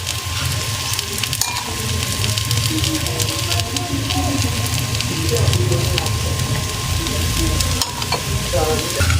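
Batter-coated eggplant slices fry in hot oil with a steady, close, crackling sizzle that runs throughout, with light utensil taps and a soft voice speaking underneath.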